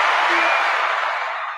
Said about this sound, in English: Big round of applause for Miss Mascord.